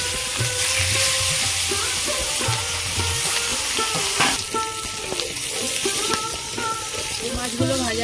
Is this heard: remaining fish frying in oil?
yes